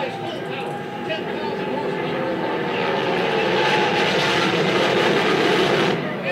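A loud, steady airplane engine roar that swells gradually, a continuous rushing drone with no break, from a plane drag racing against a fast car.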